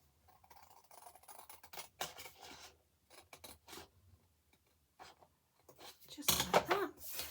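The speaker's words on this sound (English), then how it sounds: "I'm going to cut off this side" Scissors cutting through paper for a handmade gift box, several close, crisp snips and rasping strokes in short bursts with pauses between, ending in a louder rustle as the paper is handled.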